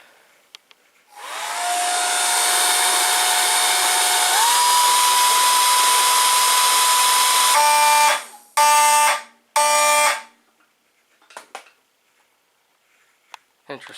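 A blow dryer aimed at a heat detector runs steadily for several seconds with a constant whine that shifts up in pitch partway, then cuts off, followed by a few short bursts and quiet.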